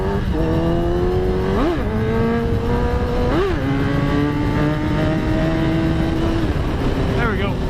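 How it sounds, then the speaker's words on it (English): A loud engine revs steadily while the vehicle pops a wheelie. Its pitch climbs and dips in a few surges and the roar continues throughout the clip. "How about let's just pop a wheelie really quick?"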